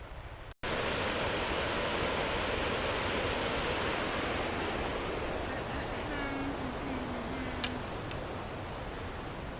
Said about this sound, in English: Waterfalls coming down from the glaciers, feeding the lakes.